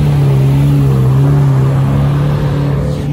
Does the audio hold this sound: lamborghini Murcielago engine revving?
yes